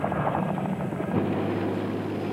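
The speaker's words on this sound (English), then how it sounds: "The few who did surrender, dots on a desert horizon, were herded together by Chinook helicopters." Heavy Chinook helicopter rotor chop throbbing loudly and steadily, a dense rumbling drone with a rhythmic beat, close by, during the 1990–1991 Persian Gulf War.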